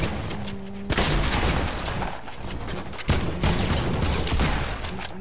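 Dense bursts of video-game gunfire crackle across the whole span, with loud volleys swelling near the start, around three seconds and again toward the end, rapid shots layered into a continuous fusillade.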